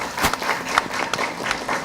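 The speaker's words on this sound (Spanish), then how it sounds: "la despedida con un fuerte aplauso por parte de todos los asistentes" Applause from the audience at a Peru–Colombia binational exhibition, a brief burst of many hands clapping at moderate volume with scattered sharper claps.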